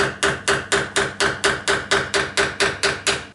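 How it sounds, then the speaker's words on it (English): A seal driver taps a pinion seal into a GM 10-bolt rear axle housing in about a dozen evenly spaced metallic knocks, each one sharp and ringing, close up with no voices. "Now just go ahead and take the driver and gently tap it in place"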